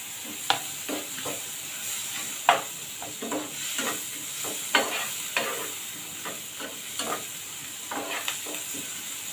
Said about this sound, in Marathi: दोन हिरव्या मिरच्या टाकल्यात मी बारीक चिरून। 7-8 कढीपत्त्याची पानं टाकले आणि 2 बारीक कांदे चिरून टाकलेले। आता हे चांगलं परतून घेऊया।